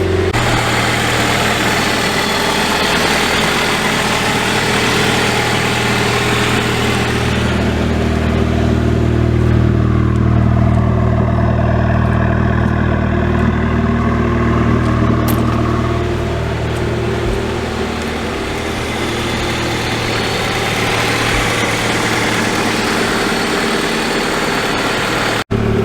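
A Honda Prelude engine idles steadily as it warms up, a loud, close, continuous low rumble holding an even pitch with no talking over it.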